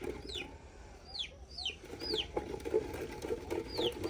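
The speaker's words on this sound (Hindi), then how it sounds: "हमारे एक चूजा भी बाहर आया हुआ है, शायद अपनी अम्मी से बिछड़ गया" A young chick peeps repeatedly in a rural village setting, giving high, thin downward-sliding chirps in short irregular bursts over low background household noise.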